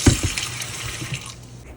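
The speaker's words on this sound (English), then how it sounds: "I'm going to take my rice, clean it, run some water in there." Tap water running into a pot to rinse rice while cooking Sunday dinner: a steady splashing stream, fairly close, easing slightly toward the end, with no talking.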